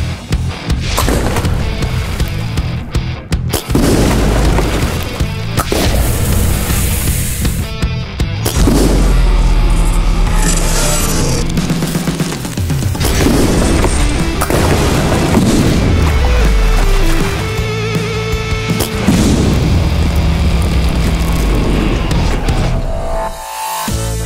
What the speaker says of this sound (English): if you want to see what these big blast caps can do